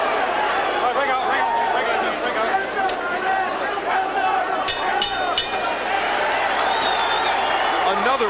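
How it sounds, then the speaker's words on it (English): A boxing arena crowd during a Roberto Duran fight roars and chants in a dense, continuous wall of voices, with a commentator talking over the noise. "again the crowd picks up the chant of Duran's name"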